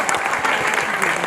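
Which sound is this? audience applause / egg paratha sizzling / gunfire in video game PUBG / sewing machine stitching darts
audience applause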